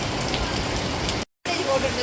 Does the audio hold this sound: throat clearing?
no